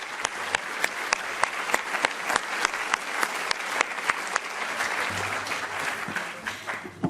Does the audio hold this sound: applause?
yes